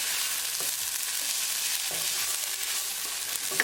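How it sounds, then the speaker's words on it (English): Ginger, garlic and green chili paste sizzles with translucent onion and tempering in a pan, a steady hiss with a few faint stirring scrapes for a chicken tikka curry. "Cooking ginger, garlic and green chili paste along with tadka for 1 minute."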